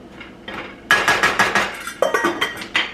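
A utensil stirs a cooking lentil mixture in a pan, giving a series of close clinks and scrapes in an irregular rhythm, with a few louder knocks against the pan's side.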